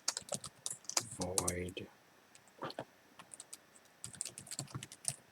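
Quick clicking keystrokes on a computer keyboard during a coding session, in irregular bursts with brief pauses. Someone speaks briefly over the typing, which is close and moderately quiet.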